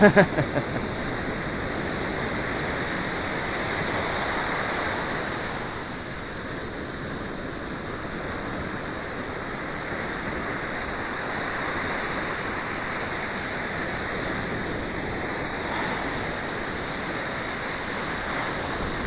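Rough ocean surf with whitecaps at Kure Beach, North Carolina, makes a constant rushing roar mixed with wind buffeting the microphone, and no talk is heard.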